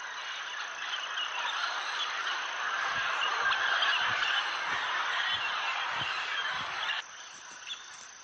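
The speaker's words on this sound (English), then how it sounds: "the big macaws arrive." A dense chorus of raucous, squawking calls from a large flock of macaws, continuous and loud, thinning slightly near the end.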